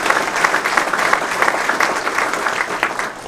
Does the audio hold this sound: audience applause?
yes